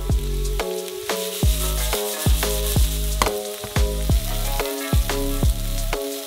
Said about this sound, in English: and fry them up in a frying pan.